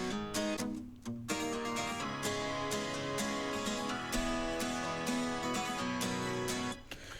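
Acoustic indie rock beat built in FL Studio, layered guitar with steady drums playing continuously at full, even loudness with sharp percussive hits throughout, no voices.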